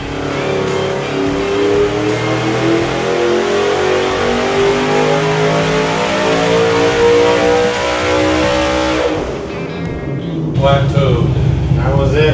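A 5.0L LS engine on a dyno pulls hard, its loud wail climbing steadily toward 8,000 RPM for about nine seconds before cutting off. It falls to a rumbling idle as people start talking.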